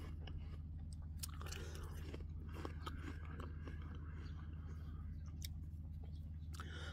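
Biting into and chewing a crisp, hard Pristine apple, close crunching bites and chewing over a steady low hum, with no talk.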